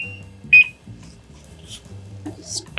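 Kitchen timer in a home kitchen gives one short, sharp beep as it is set, with a few faint clicks after it and a voice speaking quietly.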